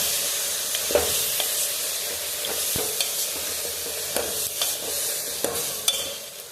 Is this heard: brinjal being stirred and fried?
yes